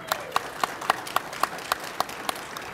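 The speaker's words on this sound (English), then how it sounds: "Let's just give this group a round of applause" Audience in a conference theater applauding a panel, sparse and steady individual claps in a regular rhythm from a small group, fairly faint and with no talk over it.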